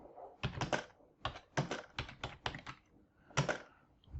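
Typing on a computer keyboard, a quick irregular run of crisp key clicks in small bursts, close and fairly quiet, with no talk.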